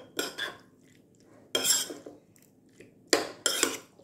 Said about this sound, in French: Je l'ajoute à ma marinade. Et voilà, on va touiller.